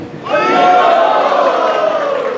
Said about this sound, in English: chant very loudly Haribol and give them a resounding, very resounding sound of applause